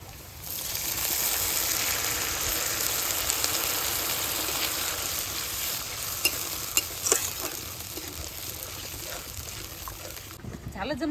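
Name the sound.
mutton frying and being stirred in a pan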